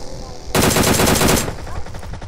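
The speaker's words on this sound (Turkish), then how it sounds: "Çok vurdum lan adama." Gunfire in a video game shootout: a single loud, close burst of rapid automatic fire lasting about a second, then a quieter tail of background game noise.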